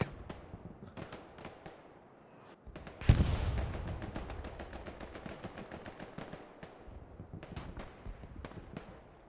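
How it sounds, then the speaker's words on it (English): In the game Hell Let Loose, on the Hürtgen Forest map, an artillery shell lands with one heavy boom amid steady rapid bursts of machine-gun and rifle fire, loud and close, with no talking. "That's a good artillery shell there."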